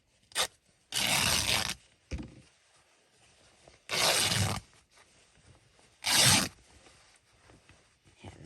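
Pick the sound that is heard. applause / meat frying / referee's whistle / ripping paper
ripping paper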